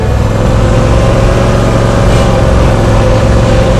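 Cub Cadet Ultima ZT1 50-inch zero-turn mower engine rumbling loudly and continuously up close, a dense steady low drone with no pauses.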